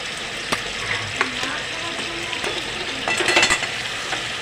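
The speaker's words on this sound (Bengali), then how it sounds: "নাড়িয়ে ঝাড়িয়ে সব মিশিয়ে নেব।" Soft cooked jute greens (note shak) with sugar and fried coconut sizzle in a pan as they are stirred, steady frying hiss with scraping strokes growing busier near the end.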